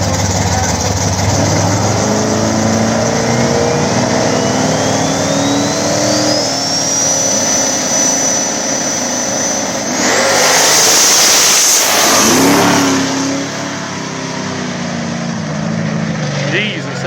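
A single-turbo LS-powered Chevrolet Nova drag car makes a full-throttle pass down the strip on a rough track surface, its rising turbo whine climbing over the engine roar before a loud burst near the end. Someone talks over it.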